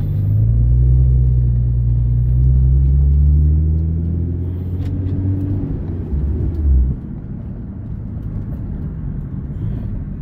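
Nissan GT-R R35 from 2010 driving on a street during a paddle shifter test, deep engine rumble rising and falling through gear changes, loud and close from inside the car, with a thump near the end.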